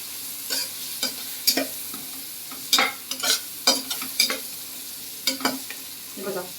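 Garam masala and turmeric stirred in hot oil in a pan, giving soft sizzling with a series of distinct scraping stirs at irregular intervals, close and alone.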